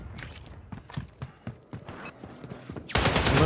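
Gunfire in the Warzone 3 video game: a run of sharp shots at an uneven rhythm, fairly near, ending in a sudden loud, broad burst.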